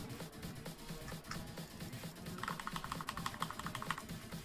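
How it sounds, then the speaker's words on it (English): Quiet typing on a new computer keyboard, a run of quick clicking keystrokes that gets denser toward the end, heard without talk. "You may notice my keyboard sounds different. That's because I got a new one."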